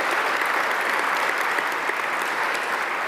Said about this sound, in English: Dr. Sooliman, let's give him another warm round of applause.